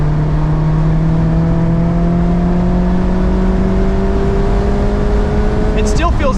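A 2024 Mazda MX-5 Miata Grand Touring (ND3) driven on a race track, its engine droning loud and close with a steady rising pitch as it accelerates, and a brief sharp burst near the end.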